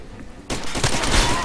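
Loud, dense gunfire in the video game Far Cry 2 erupts after a quiet half-second, a sustained close burst of overlapping shots with booming low end.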